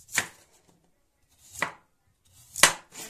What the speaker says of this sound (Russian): Отрезаем с второй стороны.